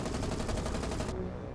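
Naval guns fire in a War on the Sea battle, a dense rapid burst of booming, crackling shots that pound loudly for about a second before cutting off into a low rumble.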